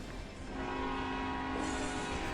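A train rumbles at a distance with a sustained tonal hum, quiet and steady, no voices.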